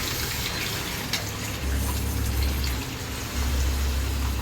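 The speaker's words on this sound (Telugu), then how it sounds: "ఇందులో వేస్తుంది చింతపండు పులుసు." Tamarind juice pouring into a pot of fish curry (chapa pulusu), a close, steady gush of liquid with low bubbling surges, and no talk.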